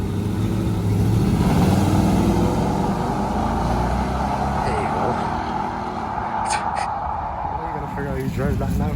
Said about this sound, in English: The V8 Mustang.